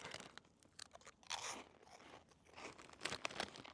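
Monster Munch crisps being crunched close up, a series of sharp, irregular crackling bites and chewing crunches, loud and near, alone without talk.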